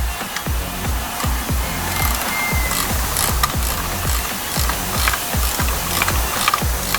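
Hand ratchet clicking rapidly and steadily while snugging nuts on a 35 HP Mercury outboard motor, close and continuous with a fast, even pawl rhythm and no talking.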